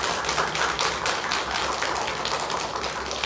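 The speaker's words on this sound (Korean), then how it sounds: "박수로 좀 환영해 주시겠습니다." A church congregation claps to welcome two guests, a steady dense wash of many hands clapping continuously throughout, fairly loud and close with no pauses.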